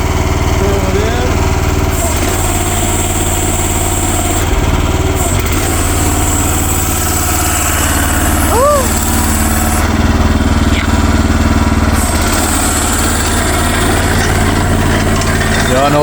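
A diesel excavator bought at auction runs steadily as it starts to move, its loud, constant engine drone continuing unbroken with faint hydraulic whines and people talking over it.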